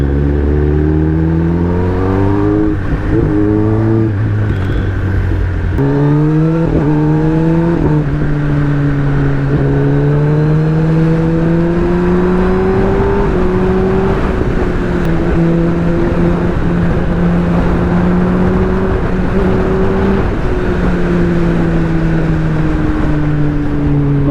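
Kawasaki ZX10-RR superbike riding through traffic on a road toward Gurgaon, its engine a steady close drone with clear rising and falling pitch as the rider shifts and accelerates, continuous throughout with no talk.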